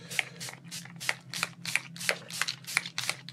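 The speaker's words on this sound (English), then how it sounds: "So I'm going to spray through my stencils." Short hissing bursts of spray paint through a stencil, about ten quick puffs in a steady rhythm, close and fairly quiet.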